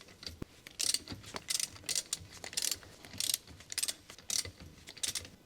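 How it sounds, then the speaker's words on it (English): Extendable ratcheting wrench with a 19mm long socket loosening the rear lug nuts on a Honda CR-V, a series of crisp clicking ratchet strokes repeating about every half second, close and clear with no talk. "Using the large 19mm long socket with the extendable ratcheting wrench,"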